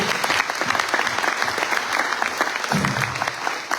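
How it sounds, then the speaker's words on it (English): An audience at a book launch claps in a dense, lively round of applause, close and loud, continuing steadily throughout. "give a round of applause for Aisling if we could too"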